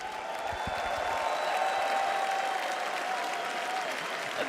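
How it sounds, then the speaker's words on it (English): Loud, sustained crowd applause and cheering fills an arena at a Dota 2 International tournament, a dense wash of clapping and shouts continuing steadily throughout. "The crowd is just going crazy for Heroic here."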